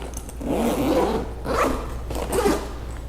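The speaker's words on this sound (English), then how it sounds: "The next set of zippers" Zippers on an AlphaOneNiner Whitley backpack are pulled open in three quick, close rasping strokes, each a short scratchy zip separated by brief pauses, heard alone.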